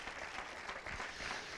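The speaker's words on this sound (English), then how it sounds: "can you clap your hands?" A church congregation claps its hands during a sermon, a short burst of continuous crowd applause mixed with a few cheers, moderately distant and soft, with no one speaking over it.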